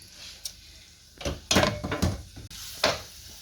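Chopped vegetables and rice being sautéed in a pan for Greek-style stuffed vegetables (gemista), with a few sharp stirring and scraping clatters and soft sizzle in bursts, close and moderately loud, no talking.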